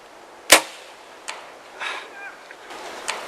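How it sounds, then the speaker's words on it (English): Arrow shot during an elk hunt: one sharp, loud crack near the start, followed by a few faint ticks and rustles in an otherwise quiet outdoor setting. "At the shot, we both heard the crack of an arrow hitting wood."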